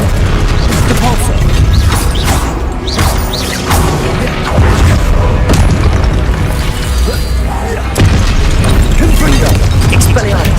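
Spell blasts are cast in battle in the Hogwarts Legacy video game, loud repeated booms and crashing impacts layered over a continuous rumbling soundscape, with voices mixed into the din.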